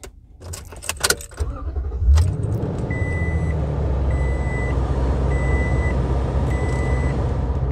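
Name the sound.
pickup truck engine starting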